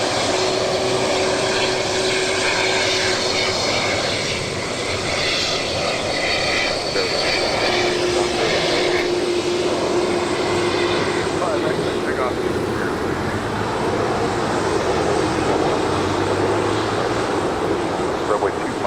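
Boeing 747 jets taking off and landing at LAX: a loud, continuous roar of jet engines holds throughout, close and steady, with someone speaking over it.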